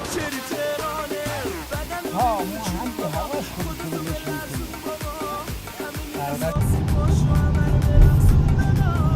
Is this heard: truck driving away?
yes